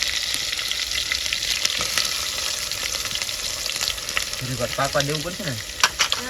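Cumin, chili, garlic and onion fry in hot oil during village-style cooking, making a dense, continuous close sizzle with faint stirring and a brief stretch of voice near the end.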